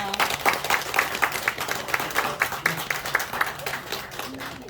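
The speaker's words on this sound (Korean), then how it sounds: "큰 박수 부탁드릴게요" Applause for the author at a Friday library book talk: a close room of listeners claps in rhythmic, evenly pulsing bursts that hold steady before tapering off.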